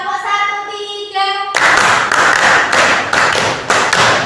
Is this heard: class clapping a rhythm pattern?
yes